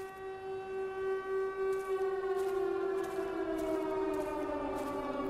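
A civil defense siren in the video game ROT wails in a long, sustained tone that slowly shifts and swells, heard alone from a distance.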